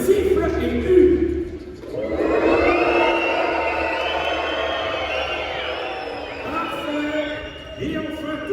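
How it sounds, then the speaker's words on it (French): A crowd whistles and boos during a rehearsal before a Gauls versus Romans show, sustained shrill whistles and jeering voices layered together for several seconds after a brief spoken instruction. "Tout le monde siffle et hue."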